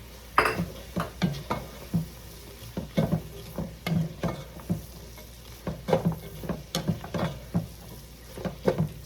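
Sausage tumbles into a pan for a low-carb stuffing and then fries with a soft sizzle. A spoon scrapes and clacks against the pan in a steady stirring rhythm, up close and with no talking.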